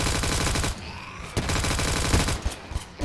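A P90 in a Roblox zombie game fires rapid automatic bursts, loud and close, with short pauses between strings of shots and no talk.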